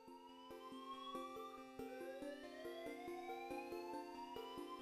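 Fire alarm ringing in the video game Hiveswap Friendsim, a loud electronic pattern of repeating beeps and rising tonal sweeps that pulses steadily throughout with no speech.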